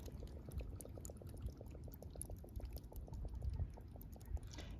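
Air bubbles escape from the soil of a very dry potted plant soaking in water, making a quiet, steady stream of soft, regularly spaced bubbling pops over a low watery background.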